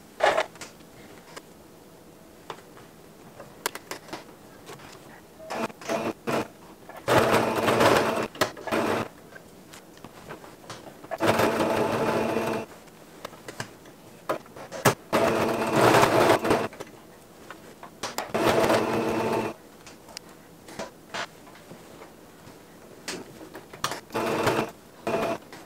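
A sewing machine runs in repeated bursts of several seconds each as a non-expert stitches fabric pieces together, its mechanical whir loud and close, separated by short pauses with clicks and handling noises, and no talking.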